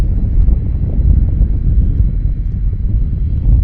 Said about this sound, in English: it is the 747-400 Classic